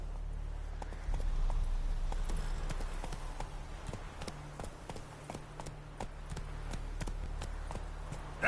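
A horse named Roach trots across ground in a video game, hooves clip-clopping in a quick, even rhythm over a low steady background hum, fairly close and clear with no talking.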